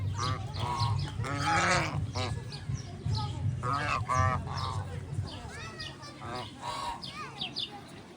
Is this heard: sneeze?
no